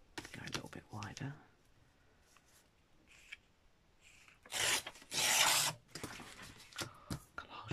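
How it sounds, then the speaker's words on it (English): Scissors trim paper around a flower cutout for a hand-stitched scrap booklet, giving soft close snips and rasping cuts in a few bursts, with quiet talk in between. "So if I just trim around that flower"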